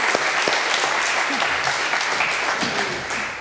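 An audience at a big history conference claps together, a steady wash of applause from many hands lasting several seconds, without talk.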